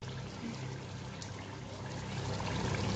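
Water is poured into a pot of mutton kuna being cooked at home, a steady, soft trickling stream that grows slightly louder toward the end, with no talk.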